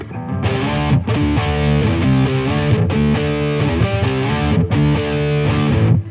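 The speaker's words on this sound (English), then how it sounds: "Metal distortion" Heavily distorted electric guitar through a BOSS MS-3 metal distortion setting, a loud, dense chugging riff with brief breaks, played alone with no voices.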